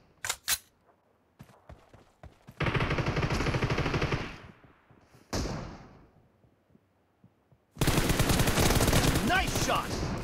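Gunfire in PUBG Mobile during a team deathmatch in a warehouse: a few sharp single shots, then long sustained automatic bursts separated by short pauses, loud and close.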